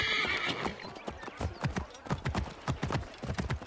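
Horse hooves clip-clopping at a quick gallop with a whinny near the start, from Assassin's Creed Origins, set in ancient Egypt; the hoofbeats stay close and steady throughout with no talk over them.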